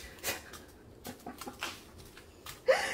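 A female dog nearby panting in short breathy bursts with faint whimpers, irregular and intermittent over a quiet indoor background, ending with a brief louder noise.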